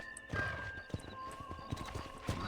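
A horse's hooves clip-clop at a walk in Red Dead Redemption, irregular close thuds, with a neigh mixed in and faint game ambience underneath.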